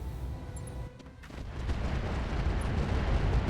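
In the RogueTech mech video game, artillery fires at a Trebuchet mech: a heavy, rumbling barrage of booms with a brief dip before the deep roar swells back and continues loudly to the end.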